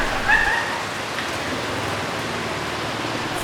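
Steady rain in Vietnam hisses evenly on a surface, dense and close, with a faint brief call near the start and a short sound at the end.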